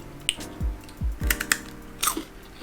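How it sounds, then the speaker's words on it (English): Crisp crunching of a rice puff kangjang snack with pumpkin seeds and sesame seeds bound in sugar syrup, several close bites and chews in quick succession with no talking. "Hear that crunch? It's not so sweet and the rice puff is very crunchy."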